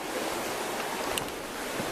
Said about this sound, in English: Just reached the Forth River,